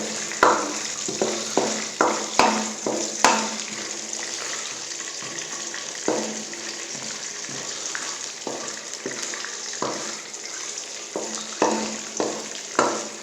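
Almonds fry in a hot pan, a continuous sizzle punctuated by repeated sharp clacks and scrapes from stirring, clustered in bursts near the start and end.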